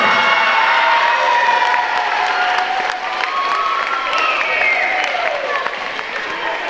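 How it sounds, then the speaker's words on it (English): A school audience at a middle school awards program claps and cheers for the teachers, a loud, dense burst of applause with whoops and children's shouts running throughout. "So let's give our teachers a big round of applause for all of their work."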